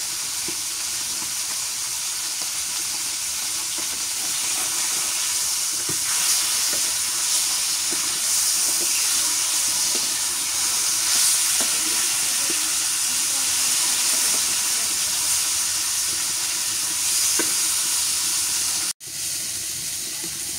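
Small silver carp fish frying in a pan, a steady dense sizzle and hiss with faint scraping, continuous and close until a brief break near the end.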